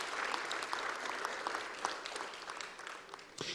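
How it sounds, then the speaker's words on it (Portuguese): An audience at a legislative assembly ceremony honouring an association applauds, a dense, fairly soft wash of many hands clapping steadily with a few sharper claps standing out, fading slightly at the end. "Peço uma salva de palmas, senhores, a esta casa"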